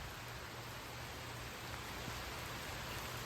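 Rain falls steadily outdoors as a constant broadband hiss, close and even throughout, with no talking.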